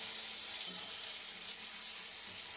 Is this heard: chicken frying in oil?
yes